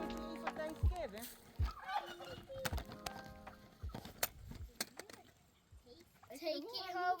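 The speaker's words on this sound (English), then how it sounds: "Turkeys." Turkeys at a farm in a park give short warbling calls, clearest near the end, with children and adults talking over most of it.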